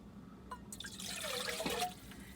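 Filtered drinking water poured from a bottle into a pot for a Fire Maple X2 camping stove, a close, rising splashing gurgle lasting a couple of seconds after a few light clinks, no talking.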